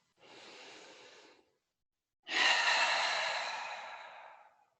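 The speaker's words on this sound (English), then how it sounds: "One breath in and out here." Two breaths taken during a yoga low lunge with arms reaching overhead: a soft, fairly brief inhale, a pause, then a longer, louder and fuller exhale that fades out slowly, close and clear with no talking.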